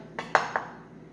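A knife chops up a leek for a vegan fufu soup, giving three quick, close knocks against a board over a brief stretch, with no talking.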